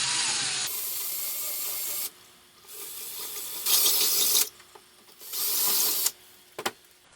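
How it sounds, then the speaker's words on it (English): A power drill whines in several separate bursts, biting into a Proton Pack prop between short pauses, with small clicks and scrapes in between. "When drilling your holes, make sure you don't drill too deep."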